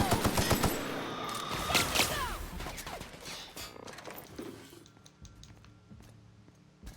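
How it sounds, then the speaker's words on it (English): Rapid automatic gunfire in the video game The Outer Worlds, a dense burst of shots up close that thins into scattered shots and fades away, with no voices. "What the hell's shooting at me?"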